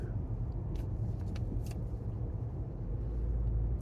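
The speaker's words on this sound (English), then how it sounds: "It's a big truck over here waiting till the last second to scoot over." A big truck passes on a highway, heard as a loud, steady low rumble of road and engine noise close by, with no talk over it.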